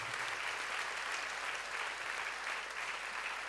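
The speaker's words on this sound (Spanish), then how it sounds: "Démosle un aplauso a nuestra Madre, la Virgen María." Applause from a congregation at a Catholic Pentecostal-style religious gathering in Ecuador, steady dense clapping that fills the whole stretch at an even level with no talk over it.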